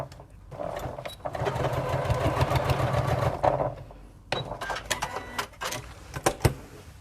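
A sewing machine stitches steadily in reverse over a seam on a tote bag, a continuous close whirring run that pauses briefly, then resumes in shorter bursts with clicks.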